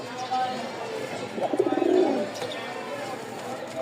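Racer pigeons coo nearby in a short rolling burst that rises out of a soft background murmur.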